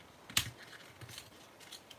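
Paper tearing in a crafting session: one short, sharp rip, followed by faint rustling and handling, quiet and close.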